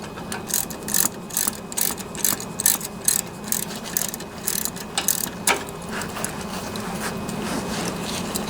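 Ratchet with a 9/16 socket turning a nut on a vintage Craftsman riding mower with a 20 HP Briggs & Stratton twin engine: steady rapid clicking bursts up close over a constant background hum, no voices.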